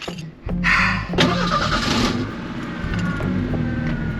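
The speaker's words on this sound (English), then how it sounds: "I'm gonna start the car and run it." An abandoned Mustang's engine cranks briefly, catches and settles into a steady running rumble, close and fairly loud.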